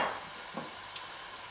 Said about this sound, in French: vous rajoutez l'huile de tournesol ou l'huile de sésame ainsi que l'oignon qui a été donc découpé donc tout fin.